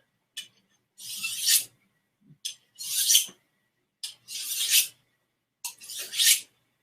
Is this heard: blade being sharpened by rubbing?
yes